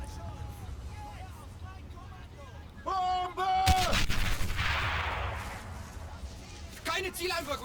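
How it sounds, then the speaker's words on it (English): Artillery barrage in the WWII strategy game Men of War: Battleaxe, heavy booming blasts and a sustained rumbling roar, mixed with in-game voices and battle noise. "Artillery zeroing in on the German position."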